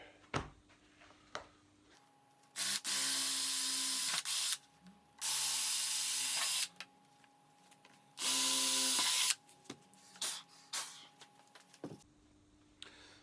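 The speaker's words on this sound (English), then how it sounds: "So I'll just drill out these bottom holes a bit bigger" A power drill enlarges holes in the door trim of a VT–VZ Holden, running in three loud, steady bursts of a few seconds each, separated by clicks, handling noises and brief pauses.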